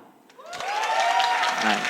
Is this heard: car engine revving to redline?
no